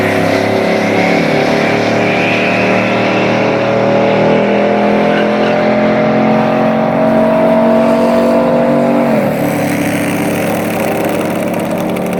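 A Ford Mustang launches off the line at a drag strip at Speed World Orlando, its engine a loud, sustained roar that climbs steadily in pitch, then drops abruptly as it shifts.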